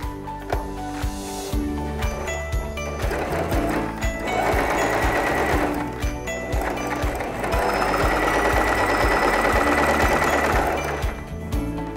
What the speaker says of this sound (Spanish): Aquí es donde le vamos a pasar la costura.